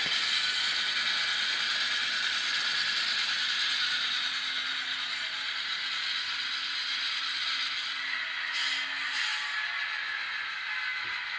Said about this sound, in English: I'm going to pull the train over here a ways